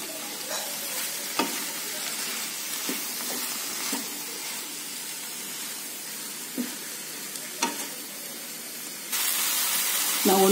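Carrots and capsicum stir-frying in a pan for a veg roll filling, a steady soft sizzle with occasional scrapes and clinks of a spatula, growing brighter and louder near the end.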